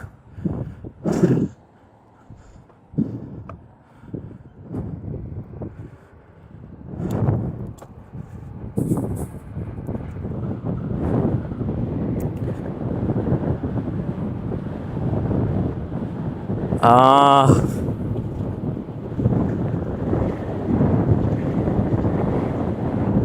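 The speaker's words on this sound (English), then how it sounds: "that wind is so bad down here" Strong wind buffets the microphone outdoors near water, producing loud, uneven low rumbling gusts that swell and fade throughout, with a brief sharper burst midway.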